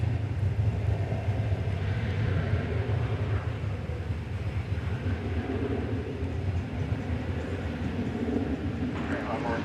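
An airliner departing DFW Airport gives a steady, distant roar of jet engines with a low rumbling base, continuous and even throughout, while someone talks over it.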